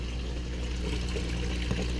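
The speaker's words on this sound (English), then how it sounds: "turn this valve off, and there comes the water" Water runs steadily from an opened valve in a hydroponic system, a continuous close trickle and pour with one brief splash near the end and no speech.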